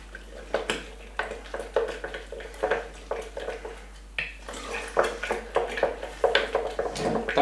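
Repeated scraping clinks of a spoon stirring a soup sourdough starter mixture in a bowl, an irregular rhythm of close, moderate taps and swishes.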